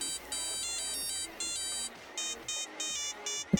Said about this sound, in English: It's the pager ringtone from Grand Theft Auto 4